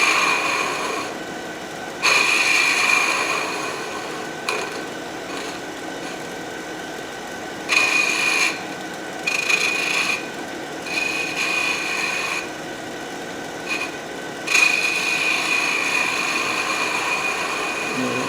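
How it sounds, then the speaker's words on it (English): A sharp spindle gouge cuts wood turning on a lathe, giving a raspy scraping hiss in repeated bursts as the tool goes on and off the spinning workpiece, over a low steady motor hum, close and moderately loud. "this is where a really sharp spindle gouge really pays off."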